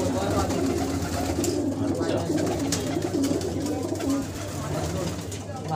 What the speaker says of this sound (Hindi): नर और मादिन दोनों मिला के 265 कबूतर हैं।